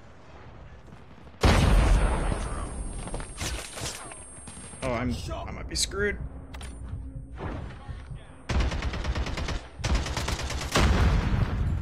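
Light machine gun fire in Call of Duty Mobile, sustained sprays of rapid automatic shots repeating in several loud bursts, with a player talking over the gunfire.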